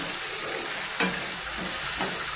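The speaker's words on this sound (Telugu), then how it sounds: "కలుపుతూ ఉండాలండి లేకపోతే కొంచెం కింద మాడిపోతుంది" Taro root (chama gadda) pulusu fries in a pan, a steady broadband sizzle, with one sharp scrape of a stirring spoon near the middle and a softer one later.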